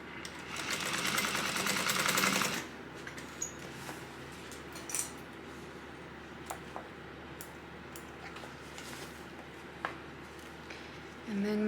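A sewing machine stitches a tote bag seam in a fast steady whir for about two seconds, then stops, leaving quiet handling clicks and soft rustling.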